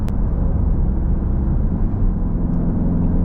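A Peugeot 508 1.6 e-HDi picking up speed on the road, heard from inside as a steady, loud low rumble and road drone that holds evenly throughout, with no talk.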